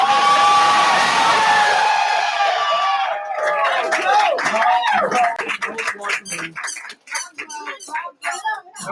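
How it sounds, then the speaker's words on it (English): Theater audience cheering and whooping at the close of a live show, a dense loud roar of voices that breaks into scattered claps and shouts as it thins out. "Hold on, applause for Chase"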